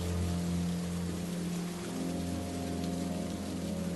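Heavy rain pours down through a stormy night as a steady, unbroken hiss, with a low droning hum underneath and no voices.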